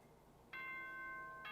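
A bright electronic ding-dong chime from the video game Danganronpa sounds close and clear as a single sustained tone that swells in and rings on, then begins again at the end, over a quiet background.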